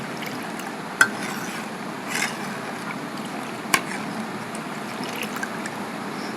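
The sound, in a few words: stirring beaten yogurt into milk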